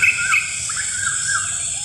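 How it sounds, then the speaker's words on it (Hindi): Birds chirp in a quiet garden at dusk, with high, thin repeated calls over a steady insect-like shrill drone, fairly faint and with no voices. "बस चिड़िया की आवाज़ आ रही है"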